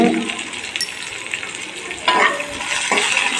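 Green chilies and tamarind sautéed in a pan, giving a steady close sizzle with stirring scrapes and a few louder clatters of the spoon against the pan near the end, with no voices.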